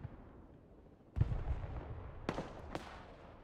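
Distant gunfire and explosions in the modern wargame Broken Arrow: a dull boom followed by two sharp cracks a second apart, fairly faint over a low rumbling battlefield background.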